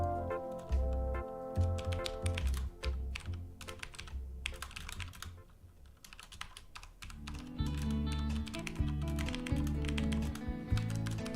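Rapid, uneven clatter of keys on a computer keyboard, typed in quick bursts close to the mic with a steady low hum underneath.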